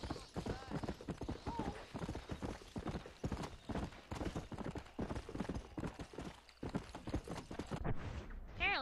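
Hooves of an undead horse in the video game Red Dead Redemption: Undead Nightmare clip-clop in a fast, steady rhythm, close and continuous, with a brief pause near the end before the trotting resumes.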